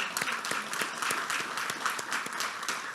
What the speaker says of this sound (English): so I'd like a round of applause for them as well